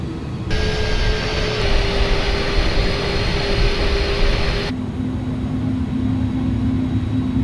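An Airbus A310 taxis in a flight simulator game, giving a steady, loud jet engine roar with a constant tonal whine that shifts pitch and character partway through, continuous and without speech.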